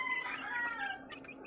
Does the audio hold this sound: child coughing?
no